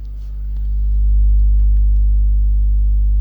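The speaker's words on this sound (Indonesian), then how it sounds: "Nih suara dengungnya." Steady electrical hum from a Cobain Safari 12V DC amplifier driving a speaker, a constant low buzz with harmonic overtones, loud and unchanging, with faint clicks and no voices.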